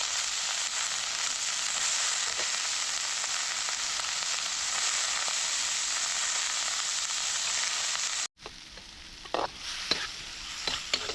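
Freshly washed kadva, a wild vegetable, hits hot tempering with a loud, steady sizzle that runs unbroken, then cuts off abruptly and returns softer with scattered stirring scrapes and clinks.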